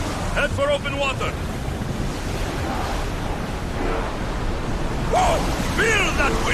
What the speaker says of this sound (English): Whoa! Feel that wind!